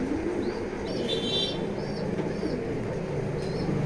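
A pair of racer pigeons coos softly in short repeated calls over a steady, loud background rumble, the calls fairly faint and spaced out.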